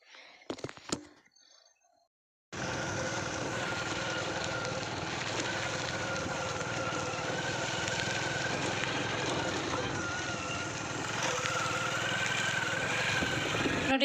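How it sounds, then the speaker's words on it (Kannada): A few seconds of scattered clatter come before a motorbike catches and starts, then runs in a steady, close, rough drone. "ಇವಾಗ ಬೈಕ್ನ ಸ್ಟಾರ್ಟ್ ಮಾಡಿಕೊಂಡು"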